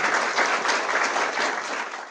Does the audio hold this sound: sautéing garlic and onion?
no